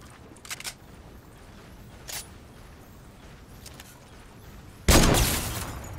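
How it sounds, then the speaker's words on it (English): Gunshots exchanged in Fortnite: a couple of short sharp cracks early on, another brief shot, then a loud close burst of fire that rings out and decays, with no talking. "somebody has shot at me. They've shot at me, which means I can shoot back"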